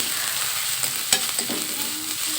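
Garlic paste going into a pan of frying onions gives a steady broadband sizzle, broken by a few short scrapes and clinks of stirring.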